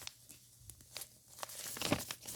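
Sheets of paper being folded into a paper airplane, with close, crisp crinkling and creasing rustles that come in short bursts, building toward a louder crackle near the end, with no voices.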